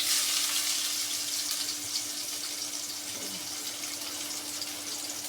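Onions frying in hot oil with a little salt, for a silver carp fish bhuna, give off a steady, close, bright sizzle that runs without a break.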